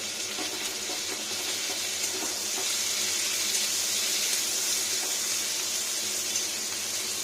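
Chopped onion and garlic frying in a pan, a continuous bright hiss of sizzling oil that holds steady and close for several seconds without any talk.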